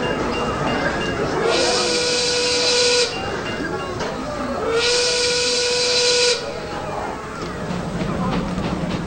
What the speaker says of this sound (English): The 4 p.m. Crotch Island quitting whistle, signaling the end of the workday, is heard in Stonington.